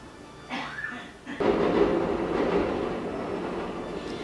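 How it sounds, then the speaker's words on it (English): An elevated train in New York City rumbles past nearby outside, a rising roar with rattling wheels and a brief squeal, after a faint rising whine at the start. "I live in New York City and I live right next to an elevated train,"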